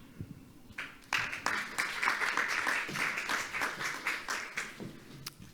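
Audience applause fills a forum session on youth involvement in the Danube strategy, a steady patter of many hands starting abruptly after a brief pause and continuing evenly at moderate loudness with a faint voice underneath.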